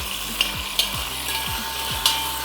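Masala hits a hot pan with a loud, close sizzle and bubbling crackle, stirred now and then, with no voices.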